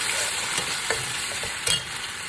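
Ginger and garlic paste sizzles steadily in hot oil for beef biryani, with a few brief scrapes of stirring rising over the constant close frying hiss.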